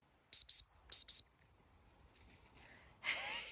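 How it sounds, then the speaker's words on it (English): Two pairs of short, shrill whistle blasts from a dog training whistle blown in a garden for a 16-week-old puppy, loud and close, followed by a brief burst of rustling noise. "we're doing some whistle training out in the garden"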